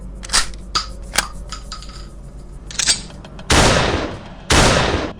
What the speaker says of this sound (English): levelling his dark stone shotgun and squeezing the trigger